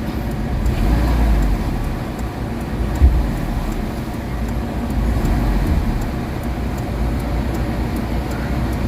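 A Mitsubishi Adventure engine, freshly treated with XADO to cure throttle delay, low power and a shaky idle, runs at night with a steady, even low rumble that holds from start to finish, with faint roadway background.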